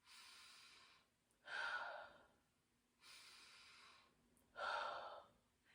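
Exaggerated chest breathing with the shoulders rising, heard as two cycles of loud, breathy inhales and exhales that alternate with short pauses, close and clear with no talking.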